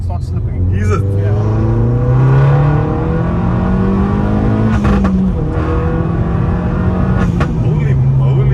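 An Opel Corsa OPC with a 1.6 engine pulls hard under acceleration, its steady loud engine drone climbing in pitch through the gears from inside the cabin, with brief dips at shifts and voices talking over it.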